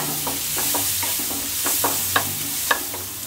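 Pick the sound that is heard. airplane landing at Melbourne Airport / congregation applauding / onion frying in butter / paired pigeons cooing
onion frying in butter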